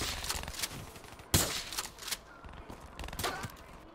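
Pistol shots ring out during a gun game match in a shooter video game, sparse sharp reports with one strong crack near the middle and softer shots scattered around it over game ambience.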